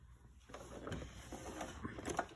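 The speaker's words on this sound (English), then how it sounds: "I'm going to turn this around so it'll fit in my sewing machine, just like this." A home sewing machine stitches a fabric hem for a chicken-shaped grocery bag holder. It gives a close, steady mechanical whirr with small rattling ticks throughout.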